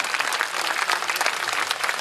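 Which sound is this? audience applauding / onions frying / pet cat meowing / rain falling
audience applauding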